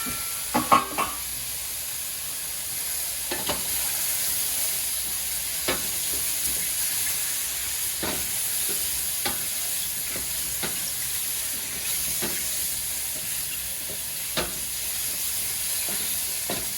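Potatoes fry in oil in a pan with a steady hiss and sizzle throughout, broken by a few soft clicks and scrapes of stirring.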